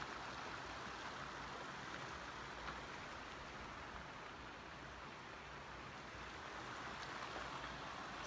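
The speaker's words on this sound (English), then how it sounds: "There is a little river down there." A little river flows through woods in Colorado, a soft, steady wash of running water heard faintly and evenly throughout, with no voices.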